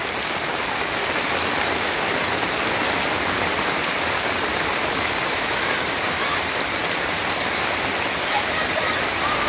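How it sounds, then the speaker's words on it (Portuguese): Heavy rain pours onto a street in Joaquim Gomes, Alagoas, during a flood, with floodwater rushing downhill. A loud, dense, unbroken hiss and roar of water fills the whole stretch. "Muita água, galera. E a chuva não para, viu? Água descendo aí, ó."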